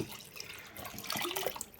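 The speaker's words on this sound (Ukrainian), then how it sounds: "заливаю водою" Water pours into a multicooker pot over basmati rice for pilaf, a steady close trickling and splashing stream without talk.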